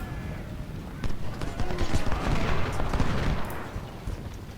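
Rifle volleys from Civil War infantry in Ultimate General: Civil War at the First Battle of Bull Run crackle in dense, rapid bursts of overlapping shots, building in the middle and fading slightly toward the end.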